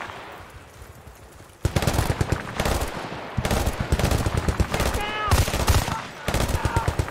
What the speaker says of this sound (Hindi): अब कहाँ से फायरिंग कर रहे हैं लोग?